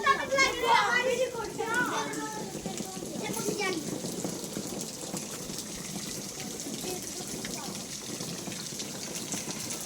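Light drizzle falling outdoors on a residential plot, a soft continuous patter of water under excited children's voices and adult talk throughout.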